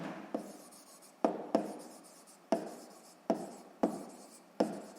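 A pen writes on paper in short bursts, about eight quick strokes at a steady rhythm, close and quiet with no talk.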